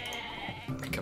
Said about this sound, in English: Oh my god, a goat!